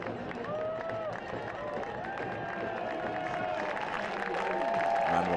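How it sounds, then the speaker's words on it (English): Soccer stadium crowd at a Forward Madison FC v Lexington SC match applauding a substituted player leaving the field, a broad, steady wash of clapping and murmur with a commentator talking over it. "Round of applause for Isidro Martinez as he comes off the field."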